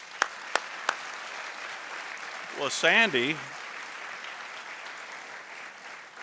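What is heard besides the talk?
audience applause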